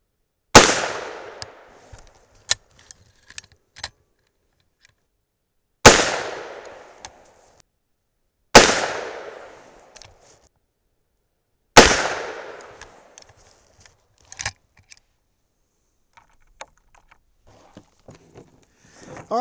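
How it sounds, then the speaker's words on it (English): Four loud, evenly spaced gunshots from a .357 Magnum Henry Big Boy lever-action rifle firing powder-coated 158-grain loads with Alliant 2400, each crack decaying into an outdoor echo, with small metallic clicks and handling noises between shots. "let's shoot the other 4. See if we can get a group going."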